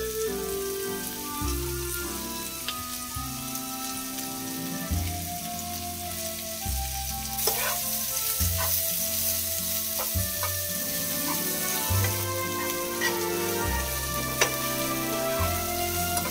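Chopped onions sizzle steadily in a pan as they fry, with a loud, constant crackle and occasional scraping stirs, and a low rhythmic hum beneath.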